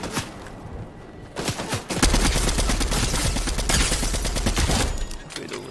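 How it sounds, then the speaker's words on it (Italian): Rapid automatic gunfire in the battle royale video game Fortnite, dense bursts of shots rattling loud and close for several seconds after a brief lull. "Mi stanno quasi cecchinando"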